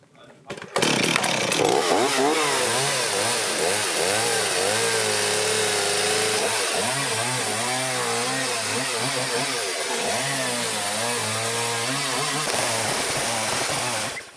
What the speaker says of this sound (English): We then fixed 2 blocks onto the chainsaw bar, which allowed us to use the original beam as a template.